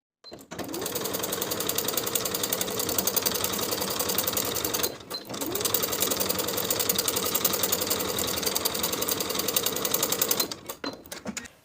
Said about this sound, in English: Baste the entire bottom edge from the center back straight across to the opposite center back with a 3/8 inch seam allowance